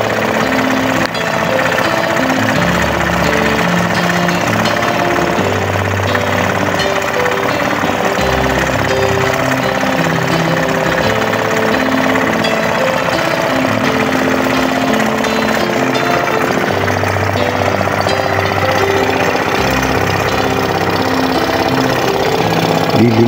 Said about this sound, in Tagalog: Yan po yung modelo ng makina Yamaha 170 7 horsepower mga idol.